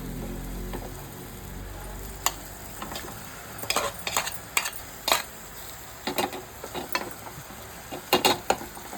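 A spoon scrapes and clinks against a pan of Kerala-style chicken thoran, giving scattered sharp taps and scrapes over a low sizzle, close up with no talking.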